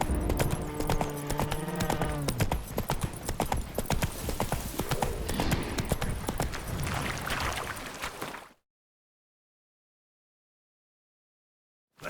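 A horse gallops in The Witcher 3 with continuous rhythmic hoof clip-clops and a brief whinny near the start. The hooves stop abruptly and are followed by silence.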